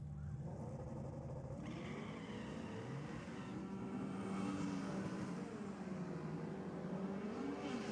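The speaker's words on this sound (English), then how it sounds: "hopefully they get this Galano car off the line and going. We'll get a full noise pass out of it as well." Drag racing cars, including a Golf and a Falcon, launch off the line together at a racing event, with loud sustained engine roar and revving that builds through the whole stretch.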